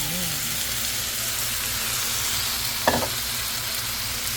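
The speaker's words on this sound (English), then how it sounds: "Now I'm gonna add the ribs." Seasoned ribs, dressed with garlic lemon seasoning and turmeric, sizzle steadily in a hot pan, a continuous broad frying hiss with one brief clatter partway through.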